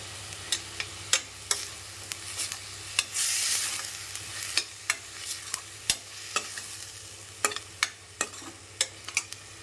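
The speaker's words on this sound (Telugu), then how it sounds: "ఇప్పుడు ఇందులో కొద్దిగా కరివేపాకు కూడా వేసుకుని ఫ్రై చేసుకుందాం ఆనియన్స్ ఎలాగో ఫ్రై అయిపోయాయి కదా" Curry leaves and fried onions in a pan for chicken and egg curry, a soft constant sizzle broken by repeated sharp scrapes and clicks of a spoon stirring, with a brief louder burst of spitting near the start.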